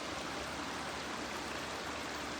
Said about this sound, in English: the water comes trickling down all the way down into the river.